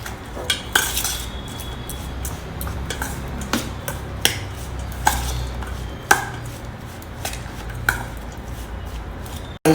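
Rice being mixed with roasted groundnuts and freshly made curry leaves powder, a spoon scraping and clinking against the vessel in irregular close taps over a soft steady background, with no talking.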